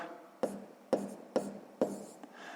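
Fractions being written down, four sharp, evenly spaced taps and strokes of a pen or chalk on a surface, close and distinct in a quiet room.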